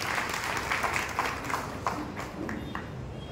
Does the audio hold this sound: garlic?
no